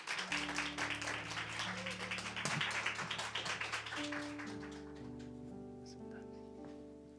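A church congregation at a New Year's Eve service claps to welcome a speaker forward, a dense patter of applause over sustained keyboard chords that fades after a few seconds while the music carries on.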